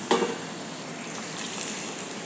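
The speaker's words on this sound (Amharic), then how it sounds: "ሽንኩርታችንን እያበሳን ነው ለሾርባ የሚሆን ማለት ነው" Onion and garlic frying in a pot as the base for chicken soup, a steady close sizzle with one faint clink near the start.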